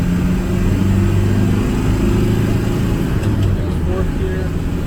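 A 1991 Land Rover Defender 110 with the 200tdi diesel is being driven through the gears, heard from inside the cabin as a loud, steady low engine drone and road rumble that holds without a break.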